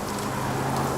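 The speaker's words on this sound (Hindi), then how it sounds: "यहाँ बहुत बारिश भी हो रही है।" Heavy rain pours down in a steady, dense hiss, loud and continuous, heard from near a car someone is driving, with no voices.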